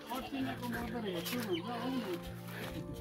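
A chicken clucks in a series of short calls on a small fruit farm, heard under a person's talking.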